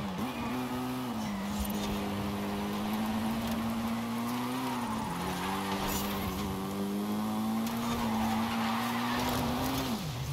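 A car in the Forza racing game drifts on all four wheels on 275 racing slicks, a loud, steady engine drone with slight pitch dips under constant tyre slide noise, no talking.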